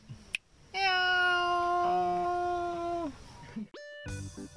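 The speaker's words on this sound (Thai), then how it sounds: "แมวตัวนี้ต้องบอกว่าแปลกมากๆครับ" A cat gives a long, clear, drawn-out meow lasting over two seconds, followed by a shorter second meow, close and fairly loud against a quiet background.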